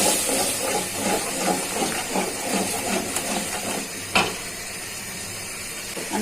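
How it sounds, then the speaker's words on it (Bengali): Spice paste with chilli and cumin powder frying in a pan for a dried fish curry, a steady hissing sizzle with soft stirring texture and one brief clink, continuous and close without speech. "এখন মশলাটা ভালো করে কষিয়ে নিই।"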